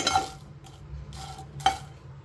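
Byadgi red chillies are dry-roasted in a pan, with a few light scrapes and stirring strokes that come at uneven intervals and carry small clinks of a utensil against metal, close and fairly quiet.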